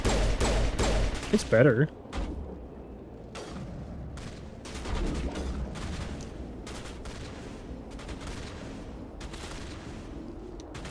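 Rapid pistol shots ring out in a Mass Effect firefight, sharp, close cracks in quick bursts that thin into scattered, fainter reports, with a short spoken line early on.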